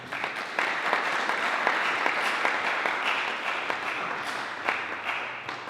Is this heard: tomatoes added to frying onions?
no